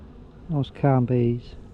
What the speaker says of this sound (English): So we've got some nice calm bees.